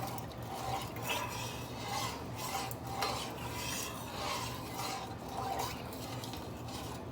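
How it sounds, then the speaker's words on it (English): A spoon stirs a vegan taffy apple mixture with squeezed lemon in a pot, making soft rhythmic scraping and rasping strokes that repeat about once a second, close and quiet, with no talking. "Now we're going to stir this."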